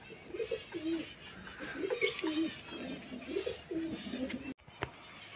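Domestic pigeons coo in winter as they drink vitamin-dosed water; low, repeated throaty coos come close and fairly steadily over a soft background.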